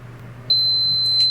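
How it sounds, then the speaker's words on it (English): A heat press pressing a design onto a trick-or-treat bag gives a single high electronic beep that starts partway in and holds steadily, clear over a faint low hum. "Then once that's done, the press will beep, and you can remove the bag from the heat press."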